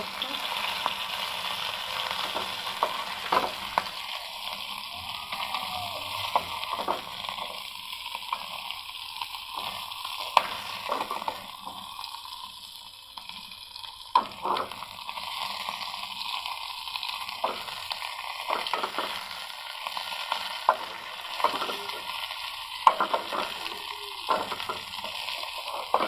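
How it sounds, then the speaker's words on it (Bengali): Pieces of rui fish fry in a pan with a constant, moderately loud crackling sizzle and occasional scraping or tapping of a spatula, with no voices. "মাছটা একটু ভাজা যাচ্ছে।"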